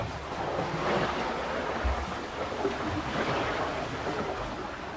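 Hull of a Neel 51 trimaran's starboard ama scuffing along the water under sail, a steady rushing wash of surf and splashing with a few thumps as the float touches down, close and continuous, with wind noise over it.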